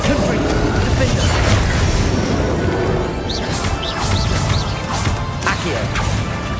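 Bombarda and Confringo spell blasts in the Hogwarts Legacy final boss fight, a dense, loud, continuous roar of crashes and booms with overlapping impacts and game effects.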